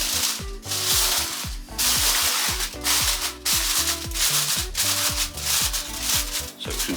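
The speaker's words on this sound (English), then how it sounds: "Just going to cover these in foil first." Aluminium foil is crinkled and pressed over pork loin in a baking dish, giving repeated loud rustling, scrunching bursts with short pauses between them over background music.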